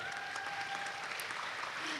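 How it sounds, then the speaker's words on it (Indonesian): An audience at an Indonesian talk event claps faintly and at a distance, a soft, even wash of applause that stays low throughout, with a faint tone running under it. "Tepuk tangan dong buat SK."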